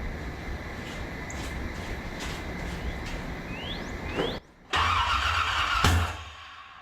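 A renewed engine in a 1981 Corvette cranks and catches, with a rough idle, a sharp rev and a brief lull before it roars back loudly, close and alone.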